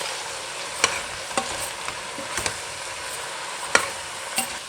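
Mixed vegetables simmer in a pan with ginger paste, turmeric, chili and rock salt for a Telugu mix-veg pulusu, giving a steady soft sizzle broken by a few light stirring scrapes, with no talking.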